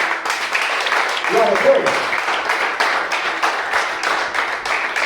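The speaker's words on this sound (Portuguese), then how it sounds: "Você pode aplaudir o Senhor Jesus?" A church congregation claps in praise during a worship service, a steady wash of applause throughout with a voice calling out over it.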